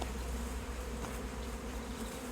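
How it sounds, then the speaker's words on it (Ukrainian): Honey bees at a rural apiary near sunflower fields make a faint, steady, continuous buzz with no other sounds over it. "Ви бачите, оце вже бджілки, які раніше тут були."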